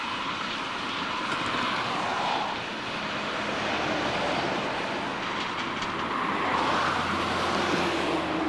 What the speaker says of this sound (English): The unit from Lincoln takes the curve onto the East Coast Main Line and into Newark Northgate Station.